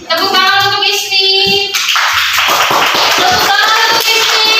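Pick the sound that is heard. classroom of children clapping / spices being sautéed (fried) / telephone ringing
classroom of children clapping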